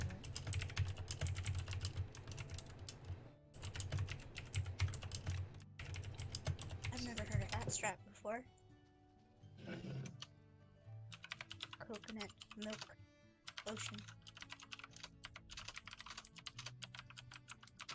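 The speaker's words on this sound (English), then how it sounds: "It's just I have a really loud keyboard." Someone types fast on a loud mechanical keyboard, with clattering bursts of sharp key clicks that pause and resume while people chat over them.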